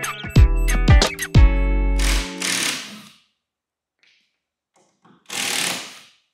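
A power tool backs screws out of a plywood shipping crate holding an aircraft finishing kit. Short whirring bursts come close and loud, separated by a stretch of near silence.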